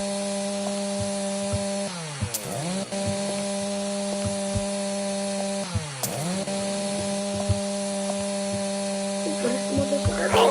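A video-game chainsaw running steadily in a zombie game, its engine drone holding a constant buzzing pitch that dips and revs twice as it cuts in, loud and close with no talking.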